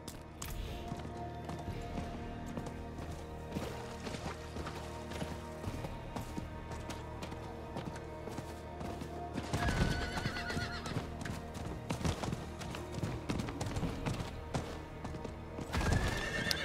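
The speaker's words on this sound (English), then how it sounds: "Man, I'm so glad I got the horse." Horse galloping with steady rapid clip-clop hoofbeats in the video game Diablo IV, with occasional loud neighs breaking through over ambient game sound.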